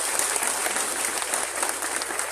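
Audience applause at a Tiger Force ceremony in Attock, a dense, steady wash of many hands clapping at once, close and loud throughout, with no talk over it.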